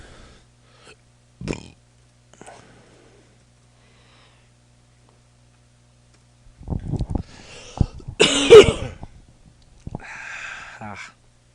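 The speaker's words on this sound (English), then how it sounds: "That cough just hurt a little bit." A person coughs hard several times in a cluster, close and loud, with throaty rasping and breathing around the coughs after a quiet stretch.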